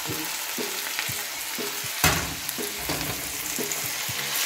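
Chicken breast and shrimp stirred in a hot pan with onion for a homemade pancit, a steady sizzle under repeated rhythmic scrapes of a spatula, close and moderately loud, with one sharper clank midway and no voices.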